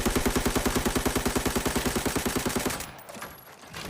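Rapid automatic rifle fire from an AK-102 in the video game Arena Breakout, aimed at target dummies: a steady, loud burst of evenly spaced shots for nearly three seconds, then quieter game ambience.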